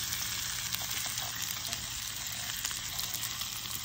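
Meat sizzles steadily on a grill at the Oku-Biwako campsite by Lake Biwa, a continuous, fairly close crackling hiss with no pauses and no talk.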